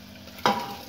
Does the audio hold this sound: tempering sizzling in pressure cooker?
yes